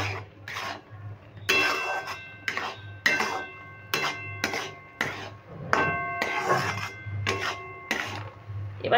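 A spoon scrapes and knocks against a kadai over a medium gas flame as chana dal motichur laddu mixture is stirred, making repeated metallic strokes and rasps in an uneven rhythm over a low hum.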